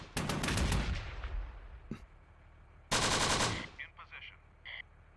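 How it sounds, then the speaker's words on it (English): Mortar and machine-gun fire in the World War II strategy game Close Combat: a dense burst of loud shots opens, a lone crack follows, then a second heavy volley that tails off into scattered distant pops. "I think I want more mortar fire."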